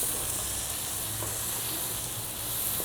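Peas and shredded cabbage sizzle steadily in a hot pan for chicken Chinese rice, a continuous close frying hiss with faint stirring scrapes and no voices.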